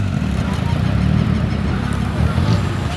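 A Volkswagen Golf accelerating, its engine giving a steady mid-level drone close by at a car show outside a shopping mall, with background crowd noise and no clear speech.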